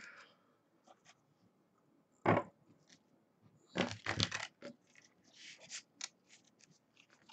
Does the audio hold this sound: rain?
no